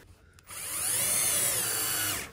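A power drill drives a screw into a concealed drawer slide runner inside a wooden drawer, one continuous high whine lasting about two seconds after a soft click, close and fairly quiet.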